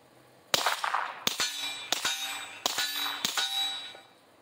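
Shots from a semi-automatic firearm fitted with a Dead Air Mojave 9 suppressor: five sharp, fairly loud reports at a steady pace, each followed by a short metallic ring.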